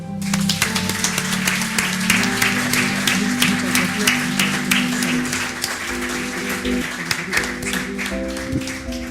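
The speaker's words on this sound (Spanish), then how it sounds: "Un aplauso, por favor." Audience at a plaque presentation ceremony applauds, sharp individual claps ringing through a hall over a sustained tonal hum, continuing steadily throughout.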